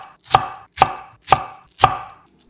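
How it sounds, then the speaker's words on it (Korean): A knife chops new onions into bite-size pieces on a cutting board, giving four crisp, evenly spaced thuds about half a second apart, close up with nothing else heard. "반을 갈라 속을 낱개로 분리해서 먹기 좋게 한입 크기로 잘라주세요"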